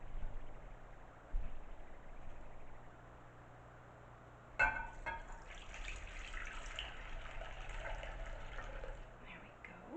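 Homemade disinfectant liquid poured into a container, a faint trickle starting abruptly and running steadily for several seconds in a quiet room.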